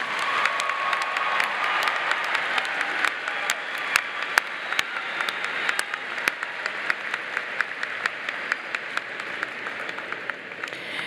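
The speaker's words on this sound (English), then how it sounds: "Please join me in a round of applause for your family and friends." A large commencement audience at a university spring graduation claps steadily and densely throughout, a broad sustained wash of applause with scattered sharper individual claps, loud and continuous with no pauses.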